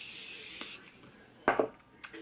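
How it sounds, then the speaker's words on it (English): A short hiss of a Morphe setting spray bottle in the opening moment, followed by quiet handling and a couple of small clicks and taps. "I am going to put on some Morphe setting spray."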